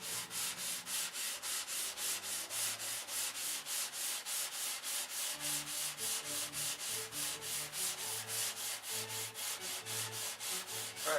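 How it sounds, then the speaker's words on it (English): Steady back-and-forth strokes of sandpaper worked by hand across a surface, a dry rhythmic rasp repeating about every quarter second with even force, close and continuous, with a faint low hum beneath. "I sand all day long."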